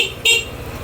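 The stock horn of a Bristol ADX 160 motorcycle gives a single short, loud honk over the low, steady pulsing of the idling engine.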